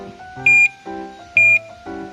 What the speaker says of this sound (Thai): เสียงเสียงไฟเลี้ยวคือดังมาก